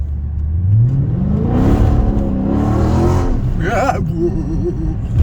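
A 6.4-litre V8 car engine revs up with a rising roar, then settles into a deep, throaty rumble, loud and close throughout.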